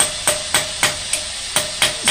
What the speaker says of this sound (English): So you want to use a really light hammer for this. And we're just trying to just lightly tap on it